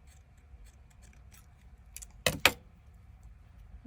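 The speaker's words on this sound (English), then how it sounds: "now we're gonna cut some of this because it's too wide." Scissors cutting material while trimming a handmade journal: two sharp, close snips in quick succession after some faint handling rustles, no talk.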